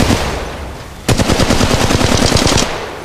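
Automatic weapon fire in Apex Legends Mobile: a loud, rapid stream of shots breaks out after a quieter stretch of game ambience and rattles on steadily for about two seconds before easing off.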